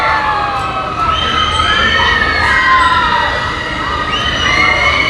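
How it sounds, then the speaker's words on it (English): A crowd of riders on an amusement ride at Waldameer park screams and shrieks continuously, high voices rising and falling together over a constant loud rumble of ride noise. "They're screaming over it."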